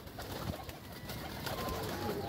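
Pigeons coo softly in a loft, several birds overlapping in a low, steady murmur with a few brief wing or shuffling sounds, no voices.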